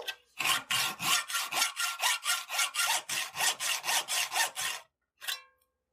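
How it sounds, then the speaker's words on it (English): A hacksaw cuts a slit into a 1/4-inch rod in a quick run of about seventeen even back-and-forth rasping strokes, close and clear, then a short pause and one final stroke. "I'll cut a slit down the middle with the hacksaw."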